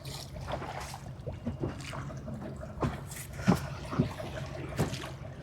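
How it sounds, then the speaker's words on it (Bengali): A rowing boat moving on the Buriganga river, with low lapping water and soft splashes under a steady wash of wind and distant ambient noise, and a few louder knocks and splashes from the oars. "আমাদের মামা নৌকা চালাচ্ছে।"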